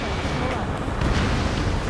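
An APC is blown up in Ace Combat 7 with a sustained, heavy explosive roar and rumble. It continues steadily for nearly two seconds, mixed with a swell of noise and faint voice chatter.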